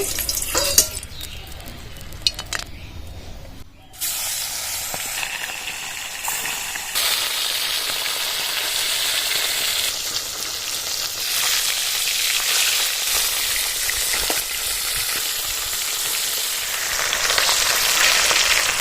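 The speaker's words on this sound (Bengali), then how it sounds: "এরকম লাল লাল করে মাছগুলো ভেজে নিয়েছি" Tilapia fish fry in hot oil in a pan, a loud, steady sizzle and crackle close up that swells after a brief quieter start and continues without pause, with no talk.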